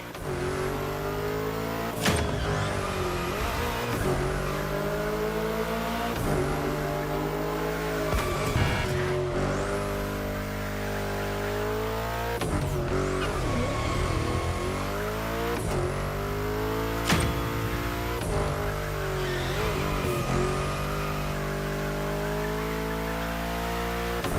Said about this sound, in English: That's a proper drift.